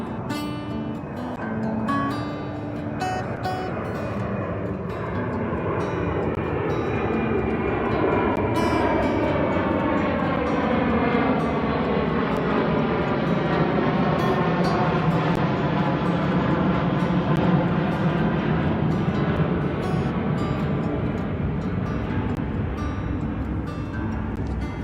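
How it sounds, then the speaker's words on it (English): Jet airplanes climbing out overhead beneath the evening takeoff pattern at Logan Airport, a loud continuous roar that swells and holds for the whole stretch, with no voices. "I seem to have picked a path right under the takeoff pattern at Logan Airport tonight."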